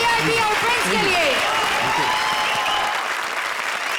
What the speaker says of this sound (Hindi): जोरदार तालियां VIP और फ्रेंड्स के लिए।